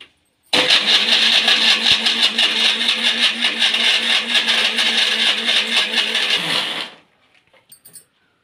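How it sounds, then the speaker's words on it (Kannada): A kitchen mixer grinder blends fruit with a little water in its jar, a loud, steady motor whir running about six seconds at close range before spinning down, with a few faint clinks after it stops. "ನೈಸ್ಗೆ ರುಬ್ಕೊಳ್ಳೋಣ."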